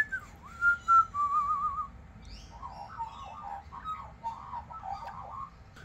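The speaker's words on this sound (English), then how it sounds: "That's my magpie." A pet magpie whistles close by indoors in a violinmaker's workshop, first a clear sustained whistled note, then a run of warbling, chattering calls that carry on steadily to the end.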